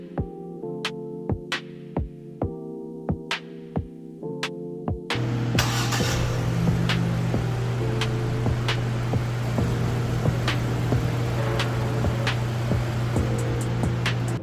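A 2016 Ford Escape engine, freshly topped up with synthetic blend oil, catches with a sudden loud onset about a third of the way in and settles into a steady idle hum, following earlier tonal background sounds.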